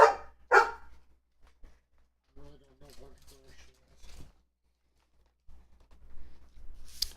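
A young puppy barks twice in quick succession up close, then falls quiet while a person talks indoors, with another faint bark at the end.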